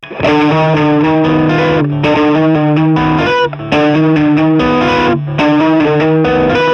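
Distorted electric guitar in drop D plays a riff with slides and a diagonal finger pattern, loud and steady chords repeated in a chugging rhythm, alone without talk.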